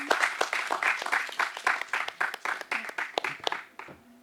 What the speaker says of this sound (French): merci Marion, de nouveau vague d'applaudissements